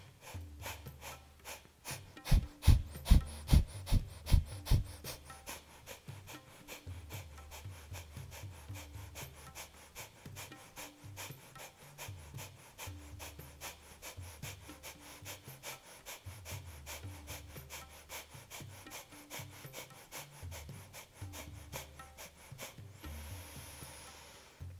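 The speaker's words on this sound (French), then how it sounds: "Et c'est parti pour les petites expires." Short, rapid, forceful exhalations from a beginners' yoga breathing exercise. After a quick loud burst near the start, the puffs continue as a steady, close rhythmic series for about twenty seconds.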